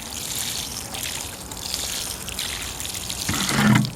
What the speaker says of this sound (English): Might as well water these.